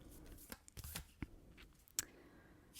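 A Threads of Fate Oracle card deck is shuffled in a quiet room, giving soft, intermittent papery riffles and taps. A few sharper card snaps stand out, all close and fairly faint, with no talking.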